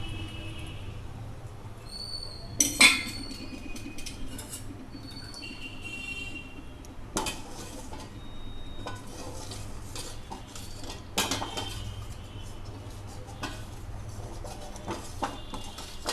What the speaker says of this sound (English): mix the custard milk pudding. We have to vigorously mix it.